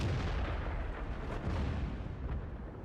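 A tank cannon shot from World of Tanks, a deep loud boom with a rolling rumble that fills the short span on its own, no talk over it.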